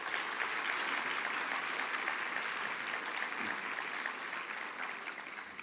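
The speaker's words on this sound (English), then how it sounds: "Let's give them all a round of applause." Banquet audience applause at a retirement event, a steady dense wash of many hands clapping that holds evenly and fades slightly toward the end, with no talk over it.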